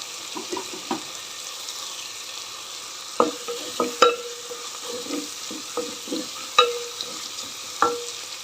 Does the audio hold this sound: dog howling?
no